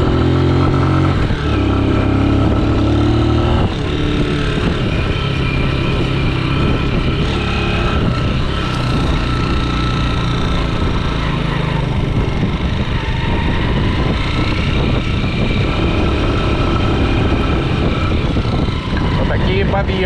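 A motorcycle engine labors and drones continuously while climbing hills on a pine forest track, close up, while a person talks over it throughout.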